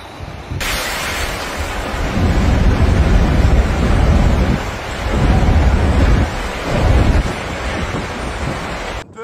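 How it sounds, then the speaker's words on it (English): Strong storm wind during Storm Benjamin roars and buffets continuously, loud and close, with surging gusts and heavy microphone rumble throughout. "sobrang lakas ng hangin dito"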